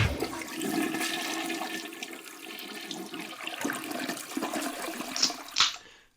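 A toilet flushes with a loud rushing surge of water that churns and gurgles for several seconds, then ends in a few sharp gulps as the bowl drains and the sound cuts off.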